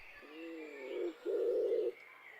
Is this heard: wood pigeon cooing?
yes